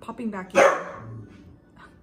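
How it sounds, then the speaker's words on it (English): A pet dog gives a single loud, close bark, with someone talking just before and softly after it. "That was my dog"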